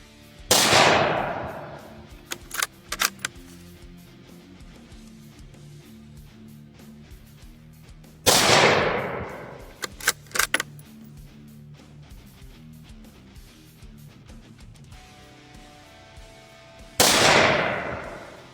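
Three rifle shots from a Ruger American Predator in .223, fired at 25 yards, each a loud sharp crack spaced several seconds apart, with small clicks and metallic handling noises between them.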